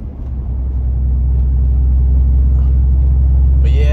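A Cummins turbo diesel pickup rumbles loud and deep from inside the cab while driving, a steady heavy drone building slightly, with a brief burst of a voice near the end.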